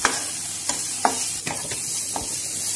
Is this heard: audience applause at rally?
no